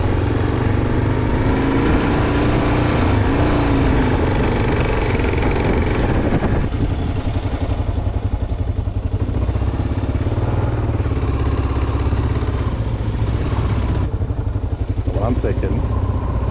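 A KLR 650 or DR650 dual-sport motorcycle idles at a beach campsite, a loud steady engine rumble throughout with a voice speaking over it.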